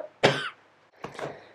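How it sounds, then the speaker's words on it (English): Two separate coughs from one person, a sharp loud first cough and a slightly softer second one a moment later, close to the microphone in a quiet indoor studio on a rainy day. "Cough for dramatic effect."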